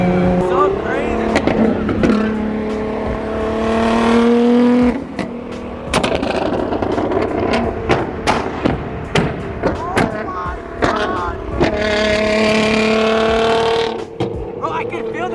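A Nissan GT-R Nismo sports car drives fast, its engine loud and near, revving hard with repeated upshifts and sharp bursts, while people talk excitedly over it.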